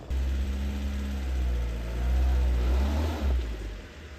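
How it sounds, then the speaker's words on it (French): A converted hearse engine revs hard in low, rumbling surges while its tyres spin and slip on loose rocks, the roar swelling and dropping close by with no talk. "Trop de rochers, les pneus qui patinent,"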